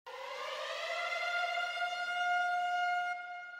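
A synthesized siren in a bass house track holds one long, steady, loud wailing tone with rich harmonics, then cuts off abruptly near the end.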